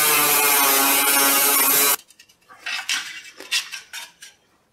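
A comically large screwdriver works at the cut trunk floor sheet metal of an abandoned Tri-Five Chevy: a loud, harsh metallic screech for about two seconds, then a scattered run of lighter clanks and scrapes.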